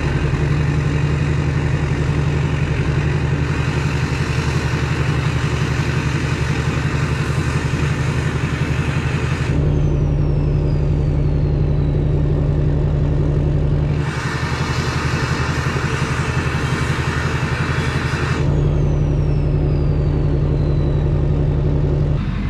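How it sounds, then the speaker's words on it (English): A Duramax LB7 diesel truck idling with its turbo vanes open, giving a steady, loud low rumble throughout, with faint turbo whistle sweeps rising and falling in two spots. "it gives you that LB7 rumble idle sound."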